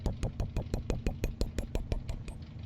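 A Formula Ford racing car engine in the Assetto Corsa driving game, a rough, pulsing idle with evenly spaced mechanical knocks, steady and close.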